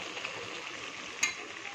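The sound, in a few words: spices sizzling while being sautéed for fish curry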